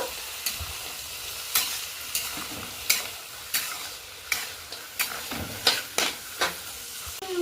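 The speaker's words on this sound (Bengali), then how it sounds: "কাজু বাদাম দিয়ে আমি খুব সুন্দর করে কিন্তু ভেজে নেব" Cashews and raisins fry in ghee while a spoon stirs them, giving a steady sizzle broken by a series of sharp scraping strokes about every half second, close and moderately loud, with no talking.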